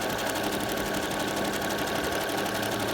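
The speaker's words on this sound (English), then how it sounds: "You just start sewing." A sewing machine stitches stacked ribbons in a steady, continuous mechanical whir with a rapid rhythmic needle patter, loud and close, with no pauses over a few seconds.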